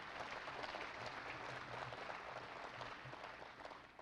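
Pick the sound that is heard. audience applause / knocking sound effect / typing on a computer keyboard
audience applause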